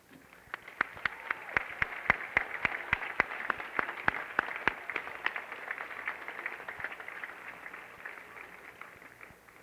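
An audience at a 1981 Ball State University summer commencement claps in a large hall, a dense spread of individual claps rising into sustained applause and then gradually thinning.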